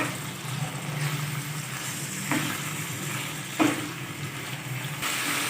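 Chicken pieces fry in a pan while they cook until the colour changes, giving a steady broadband sizzle with a couple of brief scraping stirs partway through.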